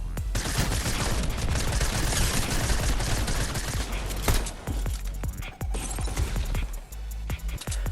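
Rapid gunfire in the Fortnite video game, a dense barrage of shots that fills the first half, then thins into sharper separate bursts and single cracks, loud and close.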